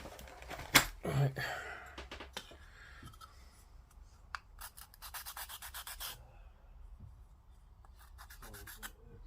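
Quiet, intermittent scratchy rubbing in short bursts as a sanding stick is worked over a plastic Revell Star Wars Millennium Falcon model kit, with pauses and small clicks between strokes.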